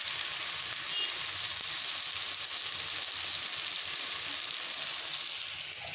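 Chicken reshmi kebabs frying in a pan over medium heat, giving a steady, even sizzle close by that holds at a constant moderate level throughout with no talk.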